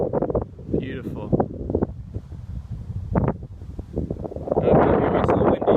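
Wind gusts past the microphone beside a lake on a hiking loop, a low rumbling buffet that swells toward the end, with someone talking over it for much of the time.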